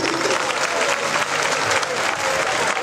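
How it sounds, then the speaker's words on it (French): A conference audience at an Ecobank event applauds in a dense, even wash of clapping that stays loud and steady from start to finish. "Il faut acclamer."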